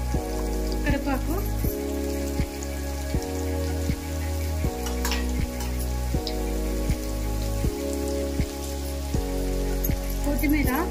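Curry leaves frying in a pan of oil for masala idli, giving a steady crackling sizzle close up that runs throughout with rhythmic thumps underneath.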